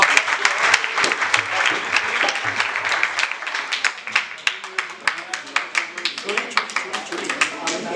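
Sustained applause from a crowd at a Valmiki Prakatotsav celebration in Quetta, Balochistan, dense clapping that thins into scattered individual claps toward the end.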